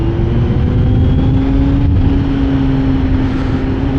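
Steady engine drone and wind rush from a 2024 Kawasaki Z900 motorcycle riding along a road, loud and continuous with a constant low hum throughout, no talking.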